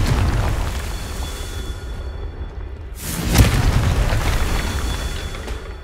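A Confringo spell from the Hogwarts Legacy video game goes off as a single loud booming explosion midway, set against a steady rumbling game soundscape.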